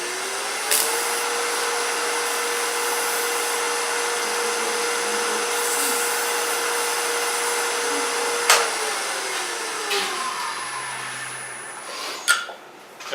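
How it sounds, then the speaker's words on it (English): Steady whirring hum of a lathe spinning a wooden stump box in reverse while it is sanded with fine grit, continuous and fairly even for the whole stretch, with a few brief clicks and knocks near the end. "when I get down fine, I like to reverse the lathe and go another direction."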